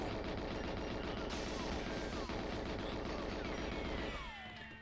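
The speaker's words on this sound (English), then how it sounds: "But they keep shooting." Rapid automatic gunfire from enemy soldiers in the Nintendo 64 game Goldeneye 007, a dense continuous burst of game shots with clattering echoes, no talk, thinning out at the very end.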